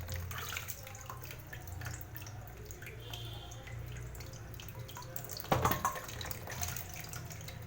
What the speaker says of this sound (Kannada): ಬನ್ನಿ ಇವಾಗ ಗೆಣಸನ್ನ ವಾಶ್ ಮಾಡ್ಕೊಳ್ಳೋಣ.